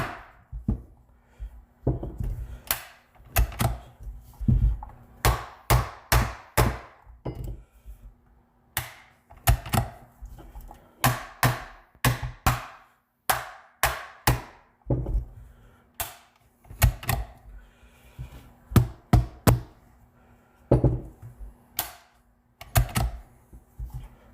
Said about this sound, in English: I've got my trusty old rubber mallet.